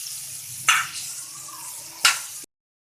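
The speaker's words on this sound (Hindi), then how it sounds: "अब हम इसमें बटर डाल देंगे," Butter goes into a pan of mashed pav bhaji vegetables, giving a soft continuous sizzle with two sharper splashy bursts of frying, close and fairly loud, before cutting off abruptly.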